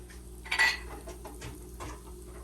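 Rice being sautéed in an Instant Pot, heard as a few scraping clinks of a utensil against the metal pot, one louder stir early on, then softer, sparse stirring over a low steady hum.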